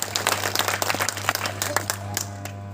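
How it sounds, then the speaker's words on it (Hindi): A crowd applauds loudly at a political speech at the fort of Chakravarti Samrat Mahe Pasi, with dense, steady clapping running throughout and tapering slightly near the end. "जोरदार ताली से स्वागत।"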